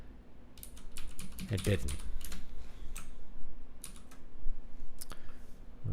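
A computer keyboard clatters in irregular bursts of quick keystrokes, close and moderately loud, while a voice speaks quietly in between.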